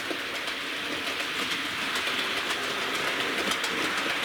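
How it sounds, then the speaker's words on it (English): Model train rolling around the track of a fiddle yard fitted with Peco points, a steady close clicking rattle of wheels over rail joints, continuous for a few seconds with no talk. "the train will go around the track."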